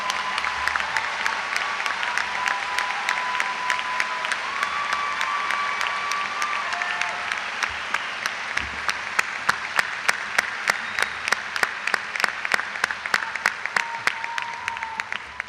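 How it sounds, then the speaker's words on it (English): Sustained applause from a commencement audience honoring the top 10% of graduating students, dense clapping filling the hall, with a few sharp individual claps standing out toward the end. "Please give them a round of applause."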